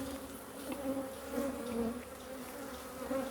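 Bees buzz close by at an outdoor hive in Portugal, a steady droning hum that rises and falls as insects fly near and past, with no talking.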